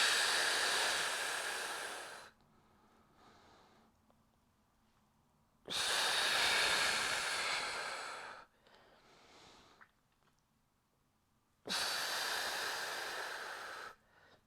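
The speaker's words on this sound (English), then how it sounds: "Are you still powering with your breath?" Loud, long breaths during a Pilates mat class, three broad rushing exhales each lasting about two to three seconds, separated by quieter gaps with faint background sound.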